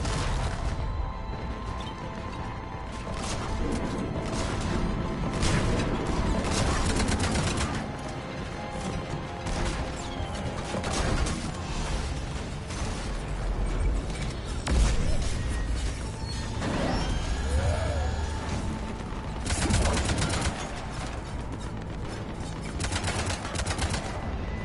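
Spaceship cannons in the Mass Effect 3 video game fire in rapid, loud bursts of heavy gunfire and mechanical clatter, with booming impacts layered over dense combat noise throughout.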